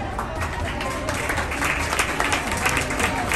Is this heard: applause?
yes